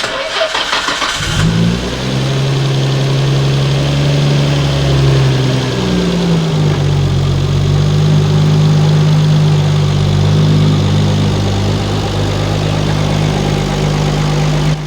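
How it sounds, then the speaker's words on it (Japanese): A Nissan Skyline GT-R R33 V-spec with light tuning and R34 turbos cranks over briefly and fires up, then settles into a loud, steady, deep idle heard up close for the rest of the clip. "一応エンジンかけますか。"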